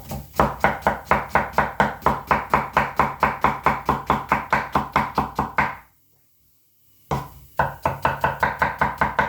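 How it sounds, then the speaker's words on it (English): Quick, even knife chops through an onion on a cutting board, a long steady run of close, crisp strokes that pauses for about a second before the chopping resumes. "What we're going to do is get the onion cut up first."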